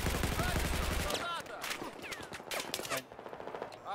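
Battlefield 4 gunfire in a 5v5 Obliteration match on the Dawnbreaker map: a sustained automatic burst opens, then broken volleys and single cracks follow, with a faint voice talking underneath.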